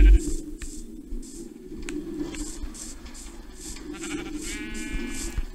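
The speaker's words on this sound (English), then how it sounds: "we got some sheep being sheared," Sheep bleat repeatedly while being sheared in the Minecraft video game, several short bleats spread across the clip over a steady low background hum.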